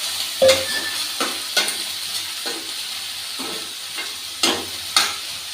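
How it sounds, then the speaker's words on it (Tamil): Beans poriyal stir-fried in a pan, with a steady background sizzle broken by repeated spatula scrapes and clinks at irregular intervals, close and clear, no talking. "பீன்ஸ் பொரியல் பண்ணிட்டு இருக்கோம்"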